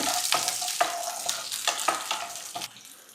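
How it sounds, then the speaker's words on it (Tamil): Chili and garlic sautéing in a pan as the base of a prawn curry, a soft, steady sizzle broken by repeated scraping stirs roughly every half second, close and without speech. "இந்த மிளகாய் கொஞ்சம் இதை வதக்கிக்காங்க."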